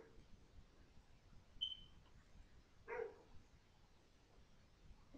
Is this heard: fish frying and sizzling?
no